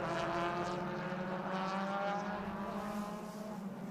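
Vintage race cars at Sonoma Raceway climb through the revs together, a loud, steady, droning engine roar with layered harmonics that holds for several seconds before easing slightly.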